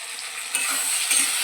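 A paste of ginger, garlic, onion and tomato fries with spices in a hot pan, a loud steady sizzle with brief scraping stirs, no voices.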